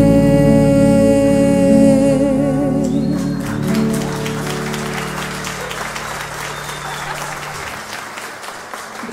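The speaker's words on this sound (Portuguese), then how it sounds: "uma salva de palmas" An audience at an acoustic music performance breaks into steady applause as the final sustained notes fade, the clapping growing dense and then gradually thinning.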